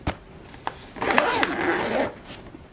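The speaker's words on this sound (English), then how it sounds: "We'll zip it up." A zipper is pulled closed on a Sabotheat mini oven bag holding a mess kit: a couple of short ticks, then one close, loud rasping zip of about a second.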